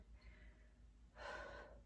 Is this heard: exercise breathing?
yes